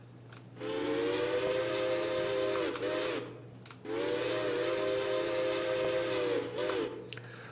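Steam whistle of an RLW Peregrine class streamlined locomotive sounds in two long, loud blasts separated by a brief pause, each with a breathy hiss over a steady low hum.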